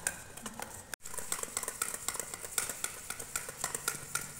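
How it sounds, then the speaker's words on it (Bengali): Dhokla batter with Eno fruit salt being mixed in a bowl, with rapid, rhythmic whisking and scraping strokes at a soft, steady level and no talking. "এবার সব একসঙ্গে আমি আবার ভালো করে মিশিয়ে নেব।"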